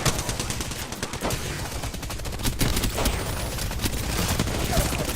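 Dense gunfire in the Apex Legends video game, with rapid bursts of shots crackling close and loud for the whole stretch, one report overlapping the next.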